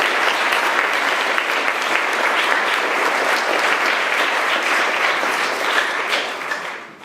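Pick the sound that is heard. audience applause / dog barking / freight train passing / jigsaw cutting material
audience applause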